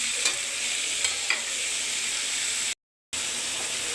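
Steady frying sizzle from fish and bottle gourd curry sautéing in a pan, a continuous quiet hiss with a few faint stirring scrapes and a brief dropout near the end.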